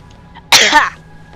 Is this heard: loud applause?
no